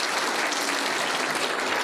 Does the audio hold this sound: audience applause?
yes